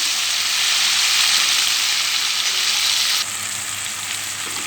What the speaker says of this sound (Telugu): ఇప్పుడు పచ్చిమిర్చి, టమాటా ముక్కలు వేసుకోవాలండి. వేసుకొని కలుపుకోవాలి.